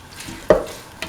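A utensil stirs a rice mixture cooking in a pan, giving one soft scraping stir over a faint background sizzle.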